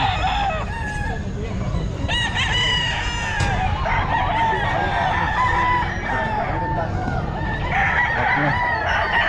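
Roosters crow repeatedly amid a busy Bocaue pet market in the Philippines, with clucking fowl and steady crowd chatter around them; several birds call close by, overlapping throughout.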